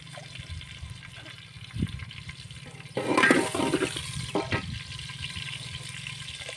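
Vegetables being washed in water at a village home, a short burst of splashing and swishing in the middle, preceded by faint handling noises and some low background rumble.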